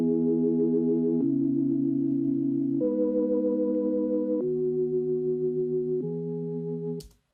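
Clean synth chords, played dry with no bit-crushing, hold steady in five sustained changes, bright and even, ending with a short click.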